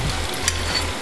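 A pork chop fries in a pan with a steady, close sizzle and a faint low rumble beneath, with no talking.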